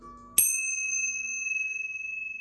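Small metal tincture bells struck once to cleanse tarot cards, a bright clear ding that rings on and slowly decays with a steady shimmering tone and no talk.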